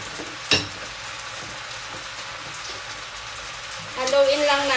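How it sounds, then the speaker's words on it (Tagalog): Pesto pasta stirred in a pan with olive oil, a soft steady sizzle with a sharp utensil clack near the start, then a voice over the cooking toward the end. "Haluin lang natin."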